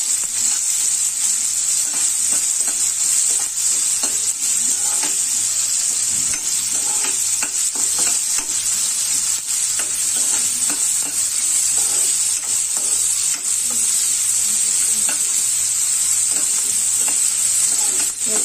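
Chopped onion and green chili fry steadily in hot oil, a dense continuous sizzle with frequent scraping strokes of a spatula stirring the pan, close and loud throughout with no voices.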